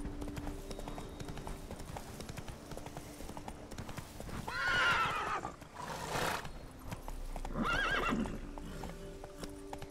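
A horse gallops in The Witcher 3 video game, its hooves clip-clopping steadily and close throughout, with two loud neighs or whinnies rising midway and near the end.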